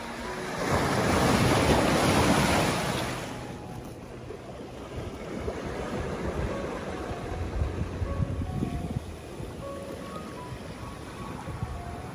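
Sea waves washing onto a Jurassic Coast beach: a swelling rush of surf early on, then steady lapping and churning water, with buffeting wind across the microphone.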